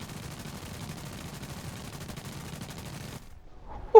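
Rapid .50 cal machine gun fire from an aircraft in the War Thunder combat flight game, a steady dense stream of shots for about three seconds that cuts off abruptly, followed by near silence and a brief sharp blip at the end.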